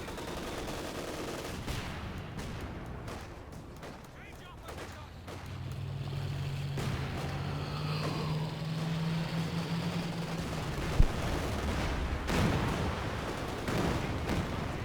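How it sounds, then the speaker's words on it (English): A Katyusha rocket barrage in Company of Heroes 2 rains onto a mortar team: a rapid run of crackling impacts and blasts, a drawn-out rising whine in the middle, and a voice talking over the din. "Katusha coming down on those mortars once again."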